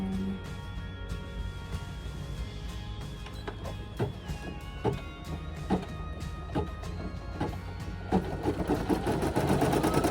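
An embroidery machine stitches down appliqué fabric on a shirt, a steady rapid mechanical whir broken by regular needle clicks and thumps. The sound stays close and fairly loud and grows busier near the end.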